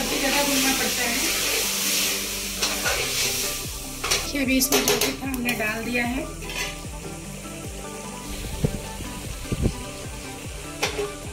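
Vegetables sizzle and crackle steadily in hot oil in a pressure cooker, with occasional stirring clatter, while a person speaks briefly over the cooking.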